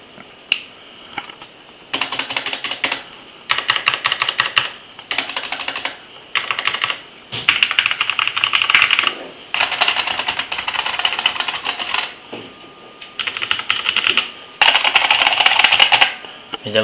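Bursts of fast typing on a Filco mechanical keyboard with brown switches, close and fairly loud, coming in runs of a second or two with short pauses between them.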